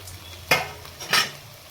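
Tomato is stirred into browned frying onions in a pan for boti curry. A spoon makes two distinct scraping strokes against the pan over a faint background sizzle, close and fairly quiet.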